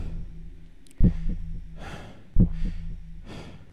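Heavy, ragged breathing from a character in the horror video game Forest Stairs, three sharp gasping inhales each followed by a long wheezing exhale, close and loud, with no talk.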